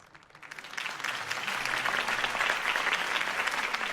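In the Batman: The Telltale Series video game, a crowd applauds after Harvey Dent's campaign speech. The clapping swells up quickly from near silence into a broad, steady roar of many hands.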